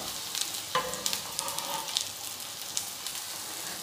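Beef shami kababs frying in a pan and being turned one by one, an even crackling sizzle with small spatula taps and clicks scattered through it, close and unaccompanied by talk.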